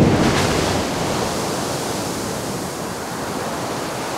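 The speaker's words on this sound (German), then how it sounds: "So ein Geysir ist immer wieder großartig." An erupting geyser sends up a roaring mix of steam and water, a loud, dense, broadband rush that swells at the start and then holds steady, with no talk.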